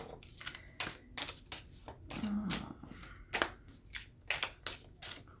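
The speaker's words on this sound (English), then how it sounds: "I'll give it one shuffle." Repeated riffling shuffles of a tarot deck, crisp flurries of card snaps in quick bursts, close by, with a brief faint murmur in the middle.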